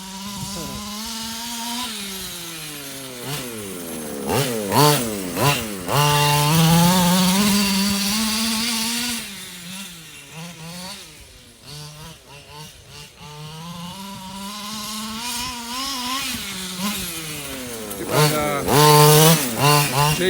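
Norton Commando chopper engine running, its note rising and falling repeatedly as the throttle is revved and eased, loud and close throughout, with a voice briefly speaking over it.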